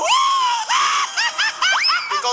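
A loud, shrill scream opens, then breaks into a run of high, shrieking laugh-like yelps, close and alone with no talk over it.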